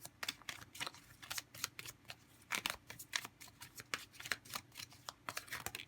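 Tarot cards being shuffled by hand during a reading, a rapid run of crisp riffling flutters and soft slaps repeating steadily, close and clear with no talking.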